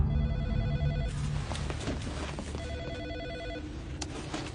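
A telephone rings in repeated electronic bursts, pausing briefly between rings, with some muffled background noise.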